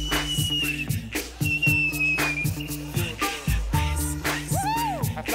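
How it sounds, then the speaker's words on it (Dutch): A whistle is blown in repeated short blasts with rising and falling pitch, loud and close, over a steady low hum and rhythmic background noise. "Hij fluit nu."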